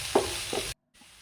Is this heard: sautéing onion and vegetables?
yes